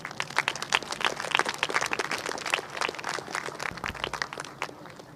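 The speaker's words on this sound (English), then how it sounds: "Please show our appreciation for him with a round of applause." A graduation audience claps at PHS Graduation 2024 for an absent honorary diploma recipient, producing many distinct, crisp hand claps in a lively round that holds steady for about five seconds.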